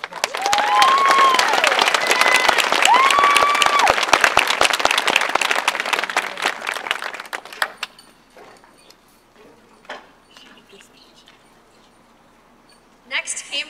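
Applause from a ceremony audience at a promotion event, steady and full for around seven seconds before thinning out into near silence, with a brief whistle-like tone early on and a short bump of sound at the very end.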